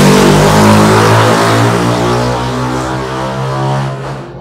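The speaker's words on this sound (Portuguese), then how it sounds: "quando você vai ver a moto, é uma Pop 100. Botou um escapamento diferente." A Honda Pop 100 motorcycle fitted with a modified exhaust revs hard and loud nearby, a sustained buzzing engine drone with slight rises and dips in pitch, heard alone.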